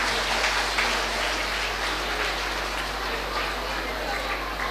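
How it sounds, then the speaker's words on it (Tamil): An audience applauding at a school annual day: a dense, continuous wash of clapping at steady loudness from start to finish. "தயவு செய்து அனைவரும் கைத்தட்டி அவர்களை உற்சாகப்படுத்தலாம்"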